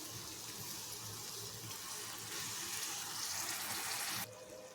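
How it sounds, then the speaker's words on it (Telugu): Water pours steadily into a cooking pot holding soaked tamarind for a black-eyed pea curry, a close, continuous gushing stream that stops abruptly near the end. "దీనిలో తగినంత వాటర్ కూడా వేసేసుకోండి."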